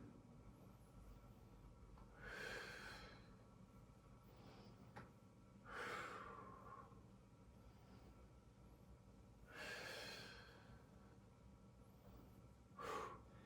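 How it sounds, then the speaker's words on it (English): Deep breaths drawn during a Pilates workout, four slow, distinct inhale-exhale swells spaced a few seconds apart, close and fairly soft, with no talking. "keep breathing, hey? We need to keep breathing."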